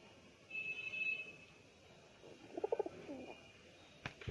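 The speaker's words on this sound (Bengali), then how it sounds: "এই হচ্ছে পায়রা, আমার মাথায় বসলো, বসে আবার ঠক্কর মারবে।" A pigeon perched on a person's head gives a few soft, low coos in a short cluster, faint and close, with quiet room noise and a brief knock near the end.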